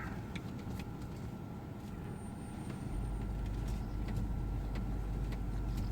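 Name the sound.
Range Rover reversing in a driveway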